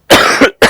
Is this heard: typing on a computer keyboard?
no